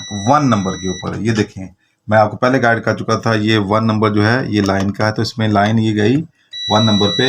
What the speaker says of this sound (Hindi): वो रीडिंग भी नज़र आ रही होगी और आपको बीप भी सुनाई दे रही होगी।